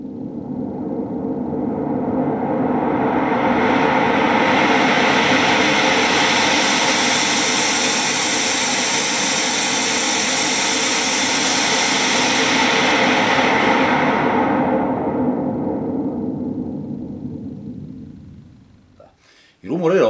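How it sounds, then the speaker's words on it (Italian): Broadband white noise from a synthesizer swells in smoothly, holds as a loud, even hiss across the whole range for most of the stretch, then fades away before a brief different sound at the very end. "Il rumore bianco contiene uguale energia per unità di banda."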